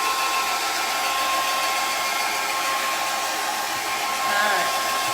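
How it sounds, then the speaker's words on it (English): A handheld blow dryer blasts hot air over a freshly painted wood cutout craft, a loud steady whine and rushing whoosh held close and unbroken for several seconds with no voices. "let me hit this with my blow dryer"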